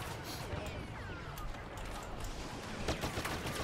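Enemy blaster gunfire in the Star Wars Battlefront game, a dense continuous barrage of rapid shots and bursts with zapping sweeps, fairly loud throughout and mixed with game noise.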